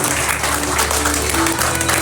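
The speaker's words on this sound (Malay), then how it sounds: "Bagi satu tepukan Tuan." Seminar audience claps for a leader on stage, a steady wash of applause with a low hum and tonal ringing underneath.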